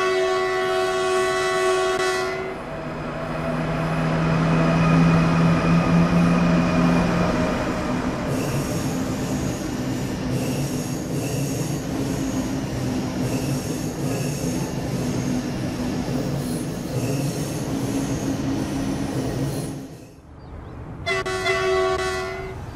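Simulated train in Train Sim World 3 pulling out of a station, departing Würzburg: steady loud rolling rumble with engine drone and wheel noise, framed by sustained horn-like tonal blasts at the start and end, no talking.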